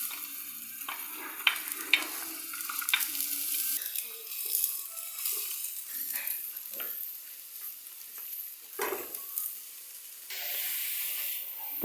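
Onion and hot pepper fry in oil in a pan with a steady sizzle and hiss, broken by several sharp clacks of a stirring utensil and a stretch of running water; no voices.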